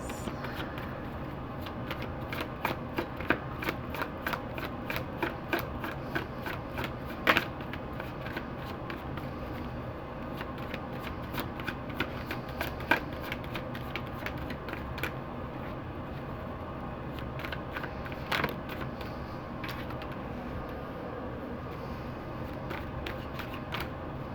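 Tarot cards being shuffled and drawn for a weekly reading, giving a steady run of soft riffling clicks and card snaps with a few sharper flicks, close and fairly quiet, with no talk.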